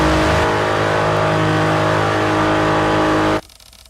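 A race car engine in a racing video game drones with a glitched, steady buzzing tone that holds at high revs, then cuts off abruptly, leaving faint background noise.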